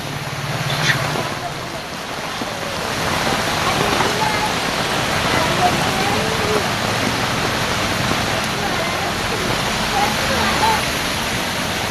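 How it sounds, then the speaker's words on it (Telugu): A heavy, continuous downpour in Hyderabad hisses steadily, with a dense wash of rain noise that never lets up. "పలు ప్రాంతాల్లో ఏడతెరిపి లేకుండా కురుస్తోంది వర్షం"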